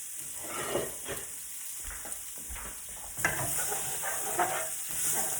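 Garlic frying in a pan for a Cajun seafood Alfredo pasta, a soft steady sizzle with occasional stirring scrapes, quiet and close with no talking.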